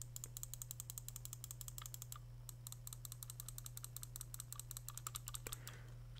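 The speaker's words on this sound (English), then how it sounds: "Razer Viper Ultimate side buttons." Side buttons on a Razer Viper Ultimate wireless gaming mouse clicked in a quick string of crisp, close, light clicks, steady and evenly spaced throughout, with no voice.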